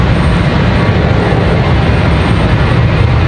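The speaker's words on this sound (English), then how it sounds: "We have that 737 getting ready to depart here." A Boeing 737 jet departing Raleigh-Durham International Airport sends out a dense, loud, close engine roar that stays steady and unbroken.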